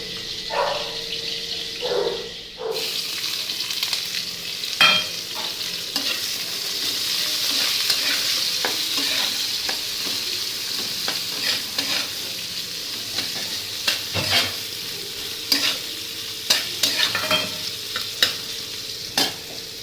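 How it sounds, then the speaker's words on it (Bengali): Onions fry in a pan with a continuous close sizzle, interrupted by repeated scraping stirs and clinks of a spatula, loud and steady with no talking. "পেঁয়াজটা লাল লাল করে ভাজা ভাজা হয়ে গেছে"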